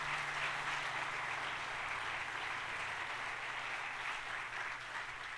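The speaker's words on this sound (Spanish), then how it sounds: "Dele fuerte palmas al Señor" A church congregation applauds during a sermon, a steady wash of clapping heard at a distance and fairly faint, with a low hum beneath it.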